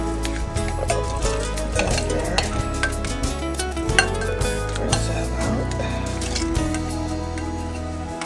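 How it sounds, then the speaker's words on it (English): A flour slurry being stirred for homemade chicken soup, with a spoon clinking and scraping against a bowl or pot in steady, continuous strokes close to the microphone. "mix just a little bit of flour with it so it's kind of like a slurry"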